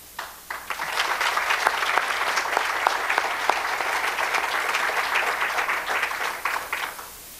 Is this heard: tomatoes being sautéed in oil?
no